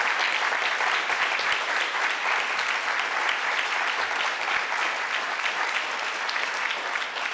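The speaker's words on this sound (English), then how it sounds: "let's give these councilors and these incumbents a round of applause." A forum audience applauds Burlington city council candidates and incumbents, sustained dense clapping from a crowd that stays loud and even throughout.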